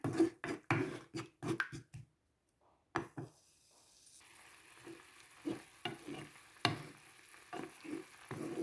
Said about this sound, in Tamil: நல்லா கொதித்து வந்துட்டது